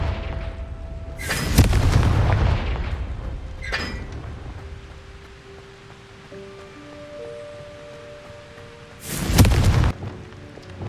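Two loud, booming spell explosions from the Confringo fire spell in Hogwarts Legacy, a broad burst early on and another near the end, with a smaller crack between them over low ambient game sound. No one talks.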